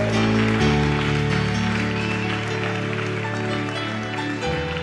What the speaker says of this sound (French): Est-ce qu'on peut donner une bonne main d'applaudissement au Seigneur?